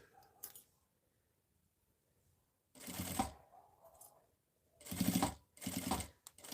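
Short bursts of a sewing machine's rapid mechanical stitching, close up, as a seam runs around the opening of a fabric wallet, separated by quiet pauses and a few soft handling clicks.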